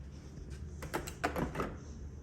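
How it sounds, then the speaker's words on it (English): A balcony door in a junior suite at the Guitar Hotel, Hard Rock Hollywood, is unlatched and opened with a quick run of fairly faint clicks and rattles from the handle and frame over room hum. "And you can open the balcony door."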